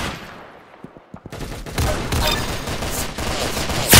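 Rapid gunfire in a Roblox Arsenal match on a beach map, starting with a few sparse shots and building into a loud, dense burst of automatic shooting that continues to the end.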